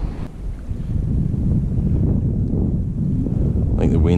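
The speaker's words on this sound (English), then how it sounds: "I think the wind's currently sitting" Steady wind gusting across open water at Corio Bay near Limburners Point, Geelong, a continuous low rumbling roar buffeting the microphone throughout, with faint lapping near the end.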